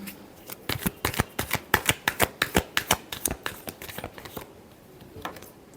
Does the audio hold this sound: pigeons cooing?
no